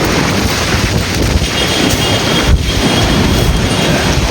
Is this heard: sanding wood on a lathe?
no